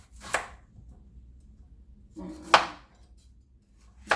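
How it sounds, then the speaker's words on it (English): A kitchen knife slices an ingredient for anti-inflammatory honey on a cutting board, with three separate crisp cuts spaced apart by quiet pauses. "Now I'm gonna slice it."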